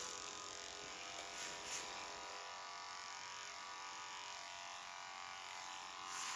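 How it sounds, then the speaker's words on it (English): Electric hair clippers buzz steadily and close up while trimming the neckline of a woman's pixie cut, a continuous even whir with no talking. "we're just gonna bring in the clippers"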